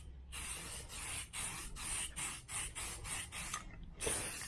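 Repeated short hissing bursts of matte spray paint, rated to bond to plastic, coating interior plastic trim of a 1985 Camaro IROC-Z, steady close sprays broken by brief pauses, with no talking.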